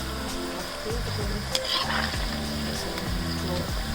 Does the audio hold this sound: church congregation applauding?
no